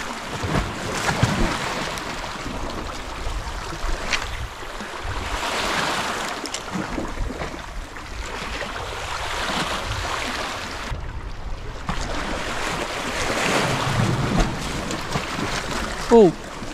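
Steady gusting wind roaring across an open microphone, swelling and easing in waves, with water or surf rushing underneath.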